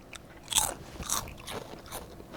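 Crunchy food, grilled meat with fat attached at a camp cookout, is bitten and chewed close up, with several sharp crisp crunches followed by quieter chewing and faint rustling.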